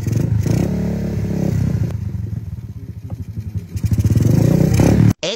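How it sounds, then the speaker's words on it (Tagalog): Honda XRM RS125 motorcycle engine running close by, a loud steady idle with rhythmic thumping that dips and revs back up before cutting off abruptly near the end. "pinaandar muna bago baklasin ng lahat. Siyempre para marinig natin yung makina."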